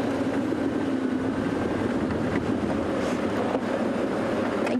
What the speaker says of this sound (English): It is that windy out here.